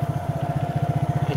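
A motorcycle engine idles close by with a fast, even chugging pulse, steady and fairly loud for a brief moment with no talking.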